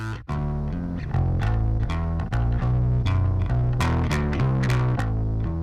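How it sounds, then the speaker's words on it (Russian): A bass line with a distortion effect, loud and gritty, a run of sustained plucked notes with changing pitch, heard alone without talk. "А так он звучит с дисторшеном."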